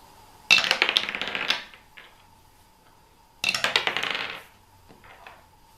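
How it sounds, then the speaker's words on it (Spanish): Dice tumbling inside a dice cylinder, two separate bursts of rapid rattling clatter, each lasting about a second before fading, with quiet between them and a faint steady hum underneath. "Voy a hacer una prueba preliminar para ver cómo se comporta el cilindro de dados."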